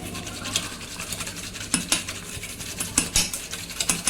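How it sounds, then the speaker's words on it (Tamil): Hand whisk beating sugar, yogurt and oil batter for an eggless wheat cake, a rapid close clatter of wire against a bowl with sharp ticking strokes in an uneven rhythm. "இதை வந்து இப்போ நம்ம ஒரு விஸ்கு வச்சு நல்லா அடித்து எடுத்துடலாம்"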